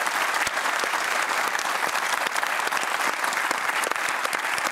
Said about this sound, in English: Would you please keep the applause going for Fiona Simson, Kristina Keneally, Zed Seselja, Kim Rubenstein and Gareth Parker.